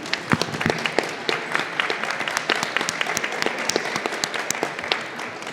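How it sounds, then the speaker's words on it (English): A crowd applauds at a horror convention panel for Nightmare on Elm Street: dense, sustained clapping from many hands with sharp individual claps scattered throughout, loud and continuous from start to finish. "let's give them one more round of applause"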